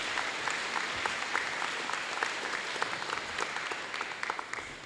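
A school audience at a Harrison Park Challenge Scholars awards gathering applauds steadily, a dense continuous patter of many hands at moderate level, heard alone without talk.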